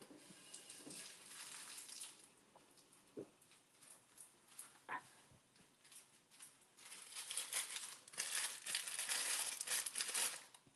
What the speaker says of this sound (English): How about I wet it and I crumple it up?